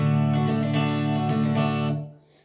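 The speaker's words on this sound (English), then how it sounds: "She does a very quick strumming pattern" Quick guitar strumming with a pick in a song's strumming pattern, bright and close, with rapid strokes over ringing chords that fade out at the end.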